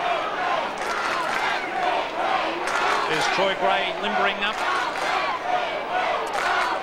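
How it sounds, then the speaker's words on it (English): Crowd roar at a 1992 AFL match between Carlton and Sydney, a loud continuous swell of cheering from a large stadium audience, with a commentator talking over it. "We haven't heard the Sydney crowd cheer like this for a long time"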